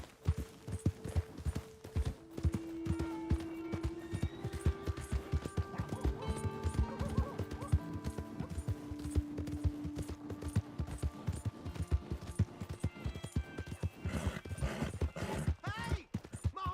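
Horse hooves clip-clopping steadily in Red Dead Redemption 2, with a brief whinny and background game music, no talk over it.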